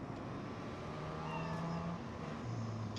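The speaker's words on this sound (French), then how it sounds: "Le chat." Cat meowing in Cyberpunk 2077, a few drawn-out tonal meows over a steady, busy game background hum, moderately faint and with no talk.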